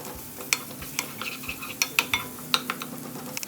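Sliced onions with spices stirred in a hot pan, a steady sizzle broken by sharp scrapes and clinks of a spoon against the metal at an uneven pace, close up and with no talking.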